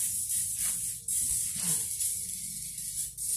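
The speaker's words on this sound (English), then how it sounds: "You want to get a lot of spray into the hair." Hairspray hisses in long, loud bursts onto a wig, a sustained airy spray broken by a couple of brief pauses, with no talking.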